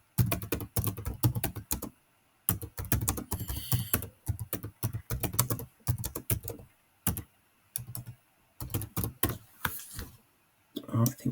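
Someone types a message on a computer keyboard, with close, crisp keystrokes coming in quick clusters broken by short pauses throughout.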